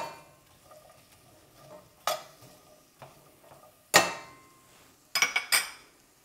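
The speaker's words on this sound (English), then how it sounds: "you just want to kind of mix this around a little bit just to coat each piece and break up any of the strands" Red onions being stirred in a pan, with a soft frying hiss beneath sharp utensil scrapes and clinks against the pan that come in separate bursts, the last a quick cluster of knocks.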